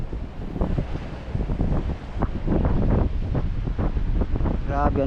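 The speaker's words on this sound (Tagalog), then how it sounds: "Lakas ng hangin dito." Strong wind buffets the microphone on a small boat at sea off Marinduque, gusting roughly over a low rumble of engine and water, with faint voices underneath.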